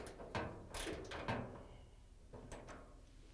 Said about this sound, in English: we can use the ratchet with the extension and 3/8 inch socket to put the screws back in that hold the top on